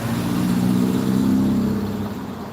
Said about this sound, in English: The familiar sound of a Mark 1 with a Kent engine.